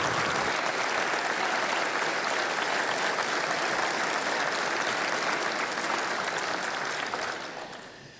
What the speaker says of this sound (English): Let's give her a crazy round of applause